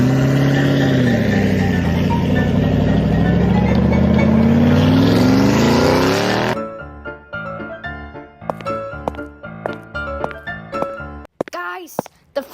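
A food truck arriving in a Lego short film, with a loud engine rising in pitch for several seconds as it pulls up, then cutting off into quieter clattering and knocking sounds, with talk over parts of it.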